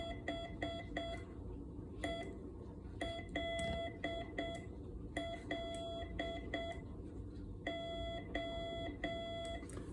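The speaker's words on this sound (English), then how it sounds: "So those are dots and dashes. So if I sent hello now," A steady electronic tone from a K3NG keyer keyed on and off in short and long beeps, sending "hello" in Morse code at a slow learner's pace over low background hum.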